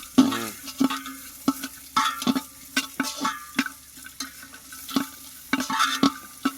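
A spoon stirs pulao rice with cashews and raisins in a pot, giving repeated scraping and clacking strokes in an uneven rhythm, close and fairly loud, with no voices.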